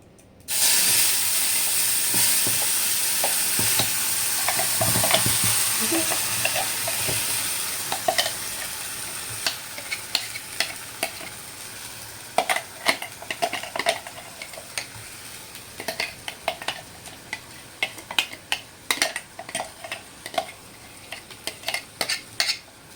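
Loud sizzling of a spice paste for fish curry frying in hot oil on lowered flame, followed by repeated scraping and clinking stirs that grow sparser as the sizzle settles.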